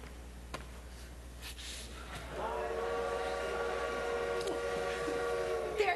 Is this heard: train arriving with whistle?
yes